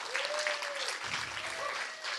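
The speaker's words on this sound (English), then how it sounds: "If everybody could give Tech a little round of applause." An audience at a civic technology event applauds the tech crew with a steady round of clapping that fills the room at moderate volume, with a faint voice briefly audible underneath.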